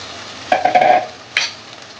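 A spoon scrapes and stirs chickpeas frying in masala in a pan, two short close bursts of scraping with a faint sizzle between them.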